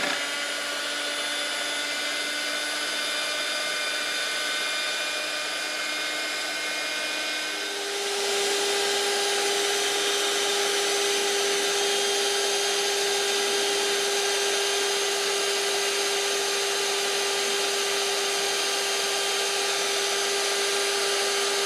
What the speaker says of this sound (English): take your electric whisk and start mixing